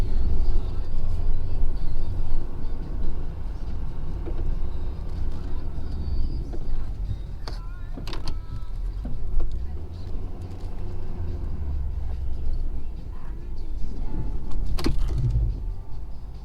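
A truck engine drones steadily while its snow plow blade, set in scoop position, scrapes and bumps along an access road, with occasional clanks; no talking.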